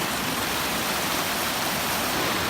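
A stream at a water crossing on the Appalachian Trail rushes in a loud, steady broadband wash of flowing water, close by and unbroken, with no voices.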